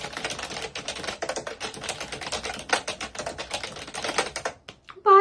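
Rapid, steady typing on a computer keyboard from a large collection of keyboards, dense close clicking and clacking with an uneven patter of keystrokes that stops abruptly near the end.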